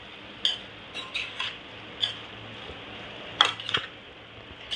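A spoon scrapes and clinks against a pan while stirring a fenugreek (methi) vegetable dish with coconut, several sharp metallic taps spread irregularly over steady quiet kitchen background.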